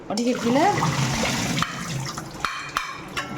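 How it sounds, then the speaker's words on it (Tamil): Running water rinses salted, finely chopped tender green banana pieces as they drain in a kitchen strainer, a steady splashing wash that runs under a woman's speech at the start. "வடிகட்டிங்க உப்பு போட்டுக்கிறதுனால ஒரு வாட்டி வடிகட்டி நல்லா கழுவிக்கலாம்"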